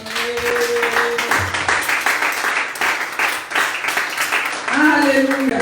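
A church congregation applauds and cheers for the Lord during a service, sustained clapping running underneath voices that call out, with a speaker's voice continuing over the applause.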